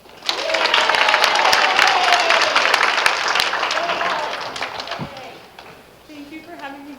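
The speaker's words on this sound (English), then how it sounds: "please give a very warm round of applause for Holly" An audience at a nutrition conference claps in sustained, loud applause that fades after about five seconds, and a voice then begins speaking over the room tone.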